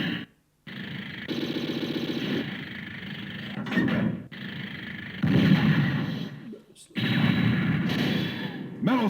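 Arcade cabinet running Metal Slug Super Vehicle, with bursts of heavy gunfire, explosions and booming weapon blasts coming in loud chunks separated by short gaps.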